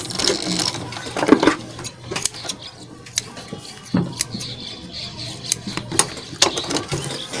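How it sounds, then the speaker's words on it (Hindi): A sewing machine stitching the waistband of gents' trousers, with short bursts of rapid mechanical needle chatter broken by pauses, close and fairly loud, and no talking. "तो हमें यहाँ पर अपने पूरी सिलाई लगा लेना है।"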